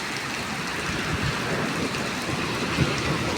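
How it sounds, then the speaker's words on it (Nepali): Heavy rain pours steadily at night in Saudi Arabia, a dense continuous hiss of water striking surfaces, loud and close, with no voices over it. "पानी चाहिँ ठुलो परेछ।"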